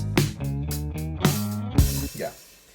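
Self-produced song with bass, guitars and drums playing together in a short, close, full-band snippet. Punchy hits carry a sustained bass line, and the music ends in a brief decaying tail.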